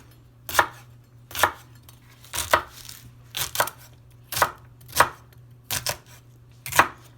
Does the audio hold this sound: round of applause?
no